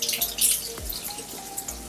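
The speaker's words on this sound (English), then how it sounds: "get some warm water onto your fingertips" Warm water runs from a sink tap, splashing steadily with a few brief drips and knocks, close and fairly loud, with no talking.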